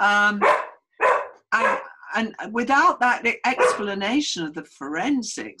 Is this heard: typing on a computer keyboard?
no